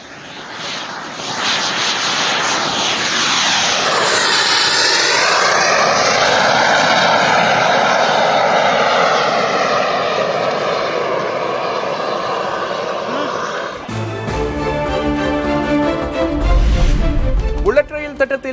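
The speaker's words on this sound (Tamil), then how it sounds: "இந்தியாவிலேயே தயாரிக்கப்பட்ட திவ்யாஸ்திரா MK3 விமானம் வெற்றிகரமாக சோதனை" Divyastra MK3, an Indian-made explosive-carrying loitering attack aircraft, flies past with a loud sustained engine drone that rises and falls in pitch, under a news reader's voice, before music takes over.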